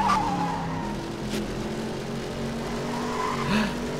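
Tires squeal as a car skids with a flat tire in a Disney Cars racing video game, thin wavering screeches over a steady engine hum, with a sharper squeal near the end.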